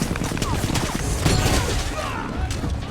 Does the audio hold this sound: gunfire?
yes